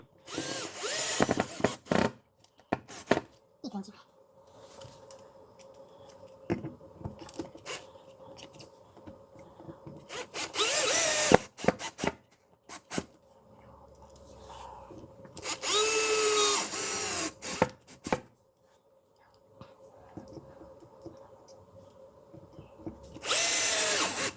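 A power drill drives screws into an oak or beech wooden bed frame, with short whirring bursts and a few longer sustained runs spread between quiet stretches of handling and small knocks, close by and without speech.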